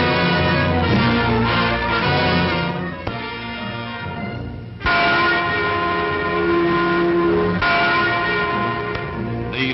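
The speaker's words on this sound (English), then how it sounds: "The Freedom Bell in West Berlin tolls in sympathy for East Germans" Archival 1962 recording of the Freedom Bell in West Berlin tolling, deep resonant strokes ringing out one after another with long humming decays, loud and sustained throughout.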